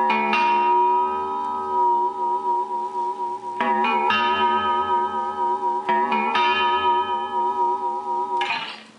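An electric guitar through a Moog Moogerfooger MF-102 ring modulator gives metallic, bell-like tones with a wobbling vibrato on the modulation frequency; several sustained notes are struck one after another.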